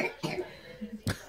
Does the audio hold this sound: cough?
yes